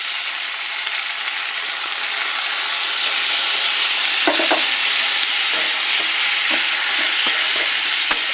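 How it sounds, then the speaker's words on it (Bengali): Flat beans fry in a pan with washed lentils and chopped tomato, making a loud, steady sizzle broken by scraping stirs and small crackling bursts throughout. "এবার দিয়ে দেবো ডাল আর টমেটো কুচি"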